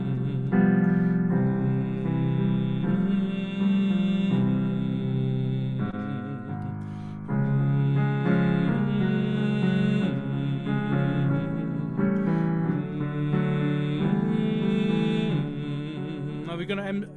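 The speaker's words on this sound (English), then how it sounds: "And I'd just like to start with a nice hum." A rehearsing choir hums together in a sustained, blended tone that pauses briefly midway and then resumes steadily, close and moderately loud, with no speech over it.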